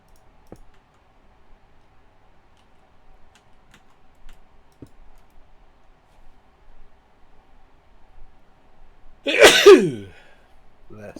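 A single sneeze bursts out near the end of a quiet stretch, close and fairly loud, after scattered faint clicks and keyboard taps during a Minecraft live stream.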